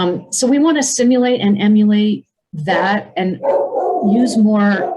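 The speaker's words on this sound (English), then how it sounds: "I'm sorry about the dog in the background." A dog barks in the background during a remote design club talk, its short barks rising briefly beneath steady, close speech from a presenter.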